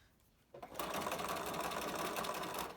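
A sewing machine runs steadily while stitching around the edges of a homemade filter face mask, starting after a brief quiet moment and whirring loud and close for the rest of the clip.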